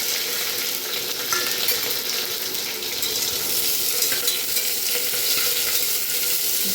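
Onion dropped into hot oil with curry leaves, green chillies and cinnamon pieces sizzles loudly and continuously, a steady close frying hiss with occasional stirring and no voices.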